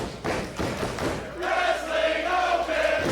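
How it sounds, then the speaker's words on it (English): At a Wrestling Open show at White Eagle, a crowd roars and shouts for Bobby Orlando and Aaron Rourke after dull thuds from the ring, the cheering swelling and holding loud. "you hear the crowd here at White Eagle showing their appreciation for this deeply personal battle"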